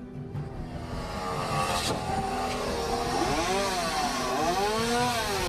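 A chainsaw cuts down a cross in Kiev, its engine droning loudly and steadily, then rising and falling in pitch as the throttle revs during the cut.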